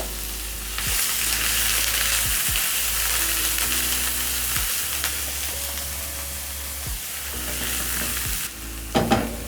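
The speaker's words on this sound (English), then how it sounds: "A tiny little bit of olive oil. Then I'm going to add in my onions." Onions sizzle steadily in a little olive oil in a pan, a continuous loud frying hiss with several sharp clinks and scrapes of a spoon stirring through it, and no voices.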